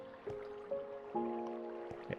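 Water dripping inside a dark Minecraft cave, a few soft, pinging drops at irregular intervals over faint ambient hum, quiet and somewhat distant.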